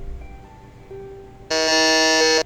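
Quiz-show buzzer buzzing in during a Magic: The Gathering trivia game: one loud, harsh electronic buzz lasting about a second, cutting in abruptly after a quiet lead-in.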